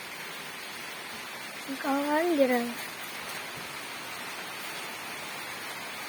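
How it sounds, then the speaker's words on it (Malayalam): Steady rain falls outdoors as a constant soft hiss throughout, with a person's brief speech heard over it partway through. "മഴ പെയ്യുണ്ട്."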